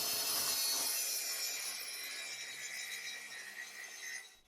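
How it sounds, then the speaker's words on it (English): A track saw cutting a wooden lab bench top, a steady bright whirring rasp of the blade through the wood, loud and close, easing off toward the end. "And I use my track saw"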